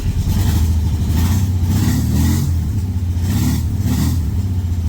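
Old Volkswagen Beetle engine running right after starting following a winter of sitting, loud and close, with a steady rough idle that surges in a few revs.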